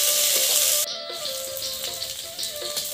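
Onion, ginger and garlic paste and chillies hit hot oil in a village kitchen, setting off a loud close sizzle that drops to a softer crackle with light stirring sounds.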